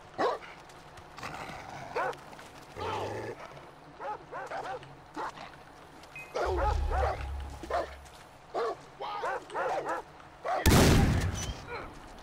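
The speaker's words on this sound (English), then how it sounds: "I hear a dog." A dog barks in Far Cry 3, several sharp barks scattered through the stretch between game noise and a loud burst of gunfire near the end.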